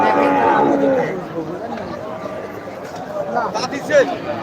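Cattle, including large cows, low loudly at a cattle market, deep drawn-out moos rising over a background of crowd chatter and nearby voices.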